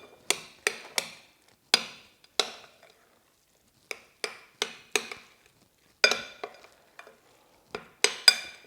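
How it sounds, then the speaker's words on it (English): Sour cream beef mixture being folded into cauliflower rice with a utensil, making a series of close, sharp scraping and tapping strokes in uneven bursts separated by short pauses, heard without any talk. "just fold in the cauliflower rice"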